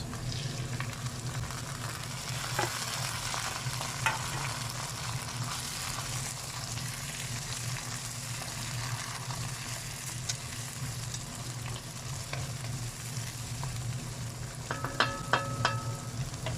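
Browned onions frying steadily in a pan, with tomatoes, green chillies and a chicken stock cube added, a continuous close sizzle with a few light clinks and stirring taps near the end.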